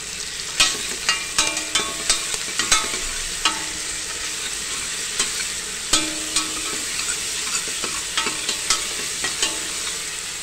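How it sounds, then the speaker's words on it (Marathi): Ginger, garlic and coriander paste sautéing with onion and spices for a village-style spicy mutton curry, a steady sizzle of frying under regular scraping strokes of a spoon in the pan, close and alone. "अशा प्रकारे हे आपल्याला छानपैकी आता परतून घ्यायचे"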